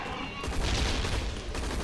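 Gunfire in the video game Hazard Ops, a dense, loud burst of rapid automatic shots with booming low end, continuous for about two seconds and close up.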